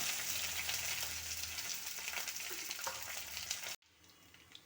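Ginger, garlic, green chilli and curry leaves frying in oil in a pan, a steady faint hiss with light stirring, cutting off abruptly near the end.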